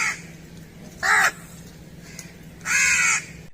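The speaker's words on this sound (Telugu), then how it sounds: "అందులో కాకి ఒకటి" A crow caws twice, loud and close, with harsh nasal calls about a second apart over quiet background hiss.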